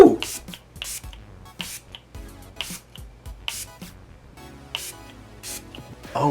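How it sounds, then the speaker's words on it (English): A makeup setting spray mists onto a face during a full-face Il Makiage product test, giving several short airy hisses in a row, close and fairly loud. "Now let's spray her on the face and see what happens."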